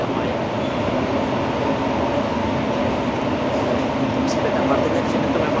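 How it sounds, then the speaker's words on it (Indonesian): Singapore MRT train running fast, a steady loud rumble of wheels and carriage noise throughout, heard from inside, with some speech in the background. "Speed MRT-nya di sini tuh memang agak kenceng ya"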